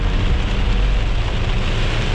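Heavy rain downpour during a July thunderstorm in Varennes, a dense continuous roaring hiss with deep low rumble, loud and steady throughout, no talking.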